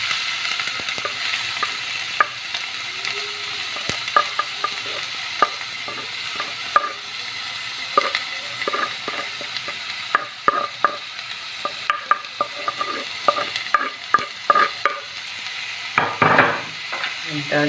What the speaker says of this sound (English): And I'll add my chopped bulb onion.